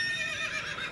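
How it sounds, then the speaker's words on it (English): A horse gives a single loud, close whinny lasting about a second, with a wavering pitch and no voices over it. "All right, Harry the horse, what's going on over there?"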